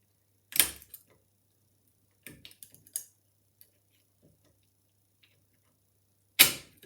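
A 3 lever sashlock being picked with a tension wire under heavy tension: a few sharp metallic clicks and ticks close up, with a sudden loud clack as the bolt gives and another firm snap at the end, quiet gaps between.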